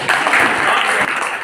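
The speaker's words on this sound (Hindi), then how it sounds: "ताली बजाइए।" A room of people applauds at a retirement ceremony, a steady burst of many hands clapping close and loud, holding evenly before tapering off.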